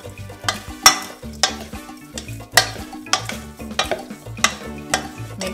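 Raw shrimp get tossed in a bowl with salt, pepper and smoked paprika, producing a rhythmic series of wet clinks and scrapes that repeat about every half second, close and clear.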